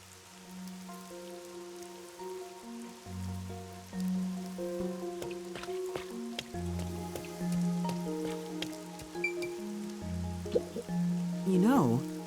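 Steady rain hisses across a surface in the game Master Detective Archives, set in rainy Kanai Ward, running the whole time beneath layered synth music tones, with a brief rising sweep near the end.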